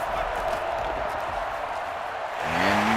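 A football crowd in Oklahoma City gives off a steady, broad roar that swells slightly near the end, where a voice briefly rises over the noise.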